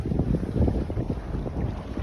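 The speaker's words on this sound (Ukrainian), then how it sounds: "Відчутно який вітер." Strong headwind buffets the microphone in a constant low roar while fishing, gusting without pause, with an open-water rumble underneath.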